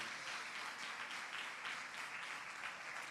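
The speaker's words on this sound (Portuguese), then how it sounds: "Vamos aplaudir mais uma vez o Senhor." A church congregation applauding during a family service: dense, even clapping from many hands, soft and somewhat distant, continuing steadily throughout.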